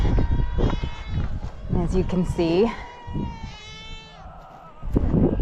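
Goats grazing down weeds in an overgrown pen bleat loudly and close by, several wavering calls sounding over and between a person talking.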